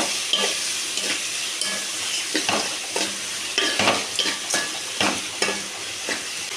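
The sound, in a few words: onion and tomato frying in a pan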